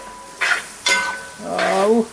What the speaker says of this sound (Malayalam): വറുത്ത് വെച്ചിരിക്കുന്ന കഷ്ണങ്ങൾ അതിനകത്തേക്ക് ഇട്ട്